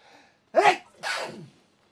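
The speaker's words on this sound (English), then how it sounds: "I'm going to sneeze" A single loud, close human sneeze in two bursts, a sharp intake followed by the explosive release, in an otherwise quiet room.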